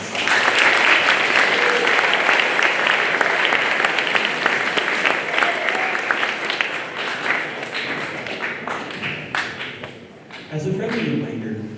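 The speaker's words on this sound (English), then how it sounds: "Let's give a big round of applause to these finalists" A school audience applauds student finalists at a youth philanthropy presentation, with dense, steady clapping throughout that thins slightly toward the end, with some voices mixed in.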